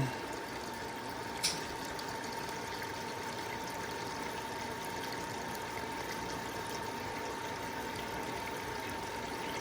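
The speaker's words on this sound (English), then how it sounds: "So this top float is about to lift, and therefore the water is going to stop. As you can see, the last vestiges of water are trying to drain out of here." Water draining out of a broth builder float-valve system during a basement test, a steady faint trickle with a low background hum and a steady tone, with one brief click near the start.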